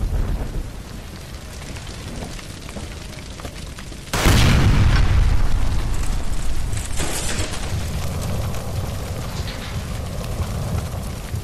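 A gas line explodes after being shot in the video game L.A. Noire, a sudden loud booming blast that gives way to a long roaring, crackling rumble of fire and debris.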